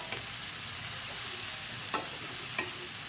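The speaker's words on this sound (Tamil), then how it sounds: "எல்லா காய்கறியும் ஒன்றா போட்டு நல்லா வதக்கணும்" Mixed vegetables sautéing in oil in a pan for kurma curry, a steady moderate sizzle with a couple of sharp stirring clanks, no speech.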